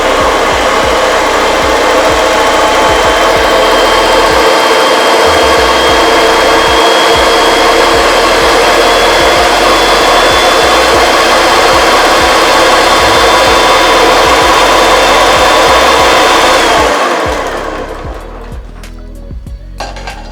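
Homemade chocolate cake batter being mixed by an electric mixer, a loud steady whirring drone running for about seventeen seconds before winding down and stopping.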